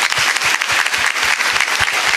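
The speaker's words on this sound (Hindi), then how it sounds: "97 के लिए ताली तो बजा दो यार" A loud, dense burst of audience applause at a devotional talk on bhakti, steady clapping from many hands with no voices over it.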